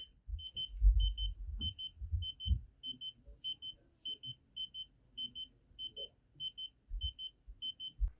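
A Momcozy baby monitor's motion-detection alarm sounds as a steady run of paired high electronic beeps repeating at an even pace, over soft low rumbling thumps from nearby handling.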